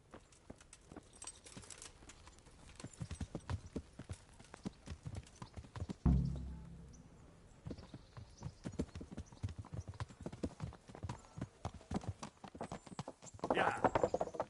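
Horse hooves clip-clopping at a steady walking rhythm in the medieval role-playing game Kingdom Come Deliverance, fairly close and moderately loud, with one heavier thud partway through and a brief whinny-like swell near the end.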